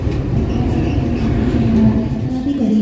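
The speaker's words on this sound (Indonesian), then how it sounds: "Oh, ada kereta api Ketel juga." A tanker freight train passes close by near Kroya station in Indonesia, making a continuous loud rumble with steady wheel-on-rail rolling noise throughout.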